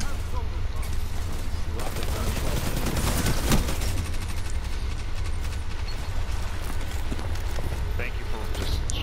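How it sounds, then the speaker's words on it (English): Rocket blasts and gunfire from a Destiny 2 firefight: dense, noisy bursts with a strong low rumble run throughout, while voices talk over the battle. "That's a rocket."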